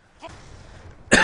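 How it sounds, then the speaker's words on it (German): One sharp, loud cough bursts out close to the microphone after a brief throat noise, during a Call of Duty Black Ops 2 gaming session. "Ah, Husten."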